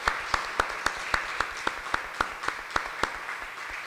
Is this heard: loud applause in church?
yes